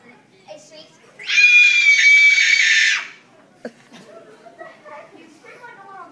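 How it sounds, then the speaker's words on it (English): A sustained, loud, high-pitched shriek from a performer on stage lasts about two seconds, followed by quieter chatter and stage noise. "You scream like a little girl."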